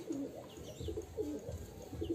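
Breeding racing pigeons coo softly in a loft, a series of low, throaty, repeated calls that are faint and close together.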